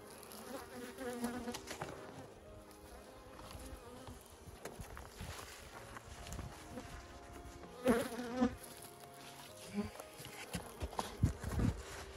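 Honeybees buzzing steadily around an open hive during late-August beekeeping, a dense droning hum throughout with a few louder handling bumps and rustles near the end.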